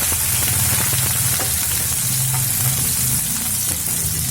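Baby onions, garlic and ginger frying steadily in a pan for a Malabar chicken curry, a continuous close sizzle with occasional stirring scrapes and no talking.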